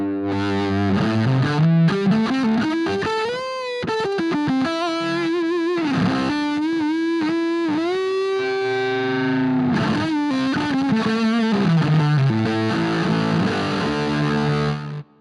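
Electric guitar played through a fuzz pedal on its left-side setting, a thick, saturated distorted tone with sustained notes and slides, loud and continuous with no talking.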